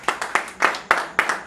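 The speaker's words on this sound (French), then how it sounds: "On applaudit encore s'il vous plaît." Short burst of audience applause at a home reception, with a few loud, distinct claps in an uneven rhythm, close by and brief.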